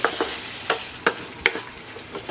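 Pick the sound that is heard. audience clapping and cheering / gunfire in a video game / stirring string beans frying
stirring string beans frying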